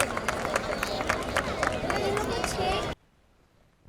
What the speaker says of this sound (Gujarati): કાર્યકર્તાઓ માટે એકવાર જોરદાર તાળીઓ